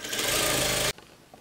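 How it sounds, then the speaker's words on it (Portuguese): A sewing machine stitches a hem with room left for elastic, running in one loud continuous burst for almost a second before stopping abruptly, leaving only quiet room noise. "vou costurar, deixando a largura pro elástico até o final"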